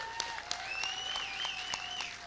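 An audience at the Award This! 2020 film awards event claps in a brief burst, fairly soft and steady, with a thin tonal whine running over the clapping.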